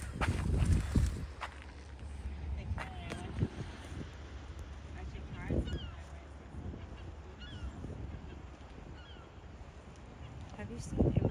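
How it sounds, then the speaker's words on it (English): Geese or similar birds honk and call outdoors at Fort Foster, scattered and fairly distant, mixed with wind, footsteps and family chatter nearby. "You hear the birds?"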